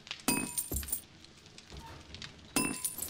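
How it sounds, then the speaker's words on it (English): Glass jars clink and knock together in a few sharp, bright bursts with short gaps between them, close by, with scattered quieter rattles in the pauses. "Glass jars"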